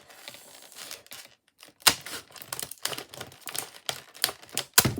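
Scissors snip through craft material at a crafting table, a quiet sequence of crisp, irregular cutting clicks and rustles, close and soft.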